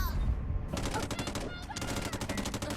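SCAR-H rifle fire in the mobile shooter game Delta Force Mobile: two bursts of rapid automatic shots, each crackling burst loud and close, with a brief pause between them and a voice faintly under the shooting.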